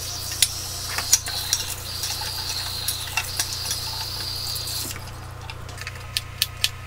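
Potatoes being rinsed under a running kitchen tap, a steady close water stream with small drips and light knocks of the potatoes against the sink, no talking.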